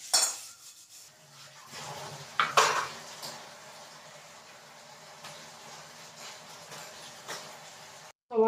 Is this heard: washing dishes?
yes